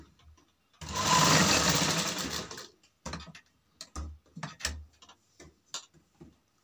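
A sewing machine stitches a salwar sleeve with piping, first in a long steady whirring run, then in short start-stop bursts with clicks between, close and clear.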